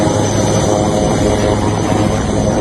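Helicopter flying over flooded Assam while dropping food, a loud steady engine and rotor drone with constant broadband roar and no talking.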